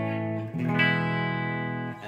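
An electric guitar chord through an Xotic BB Preamp sustains with a touch of reverb, its tone slightly spacious and ringing smoothly for a couple of seconds.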